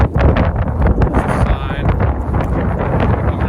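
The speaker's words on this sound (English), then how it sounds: "it's too windy" Strong wind gusts buffet the microphone on a windy mountain peak along the Sawmill Mountain hike, a loud, rumbling roar that swells and dips unevenly, with a person speaking briefly over it.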